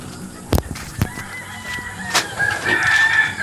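A rooster crows nearby on a farm, a rising drawn-out call that swells toward the end, preceded by a couple of sharp knocks, fairly loud with no speech.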